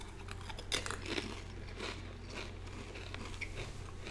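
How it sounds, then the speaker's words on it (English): Pizza-flavoured Pringles chips are crunched and chewed close to the mic, with a sharp bite followed by a continuous stream of soft, crackly mastication at low volume. "Just some good chip chewing ASMR."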